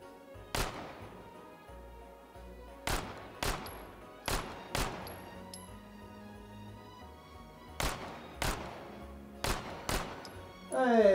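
Gunfire in the VR shooter H3VR, a series of separate sharp shots spaced a second or two apart with short ringing tails, fairly close and loud over a quiet background.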